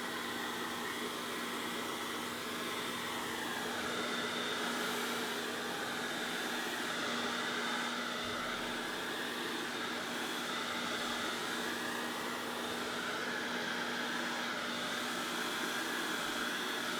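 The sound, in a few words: hair dryer blowing on acrylic pour paint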